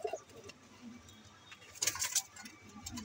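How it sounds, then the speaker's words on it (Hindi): A pigeon coos softly a few times in a quiet outdoor setting, with a brief burst of brighter bird chirps in the middle. "ये उड़ी हुई कबूतरी है मेरे पास भी"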